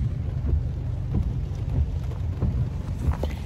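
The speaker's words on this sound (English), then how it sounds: "It's currently raining outside." Rain outside with low rumbling and wind buffeting the microphone, a steady wash of noise with scattered soft thumps.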